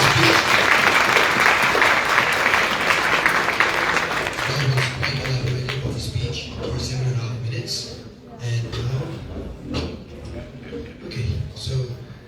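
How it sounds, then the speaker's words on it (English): Applause from a debate audience fills the opening seconds, dense clapping that thins and fades as a voice begins talking over the tail. "Round of applause for Professor Tom for that speech."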